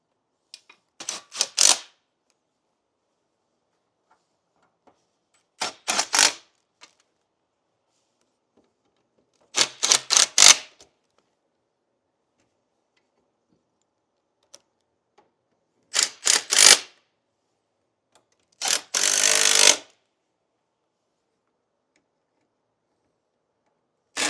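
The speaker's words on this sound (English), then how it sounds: "I'm going to go back to my 3/8 driver now, and I'm going to tighten all 6 of the 3/8 fasteners first" A 3/8 driver tightens fasteners on a seat sling against the seat rail caps, giving five separate short bursts of rapid ratcheting clicks spaced several seconds apart with silence between.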